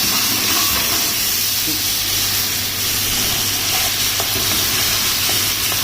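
Garlic chili sauce cooking in oil, a loud, dense, continuous sizzle and hiss held close throughout, with faint stirring scrapes beneath and no talking.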